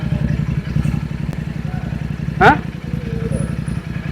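A motorcycle fitted with a double silencer exhaust idles with a low, rapid throbbing exhaust, steady throughout, while a voice speaks briefly over it.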